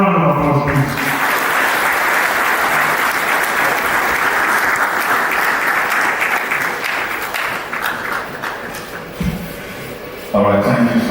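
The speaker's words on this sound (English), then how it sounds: "Another round of applause, please." Audience applause fills a hall at a matriculation ceremony, a loud sustained roar of many clapping hands that thins toward the end before voices and a burst of noise return.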